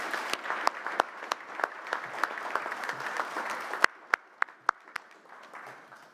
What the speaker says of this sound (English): we'd like to give Greg a big round of applause for being selected